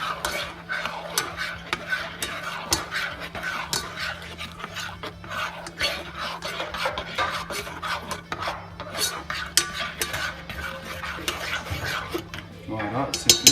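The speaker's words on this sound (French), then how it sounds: "On remue, la gélatine va fondre" Gelatin is stirred into a heated fruit coulis for a cheesecake topping: a spoon scrapes and rubs repeatedly against the pan in a quick, uneven rhythm, close and clear, with a voice talking over it.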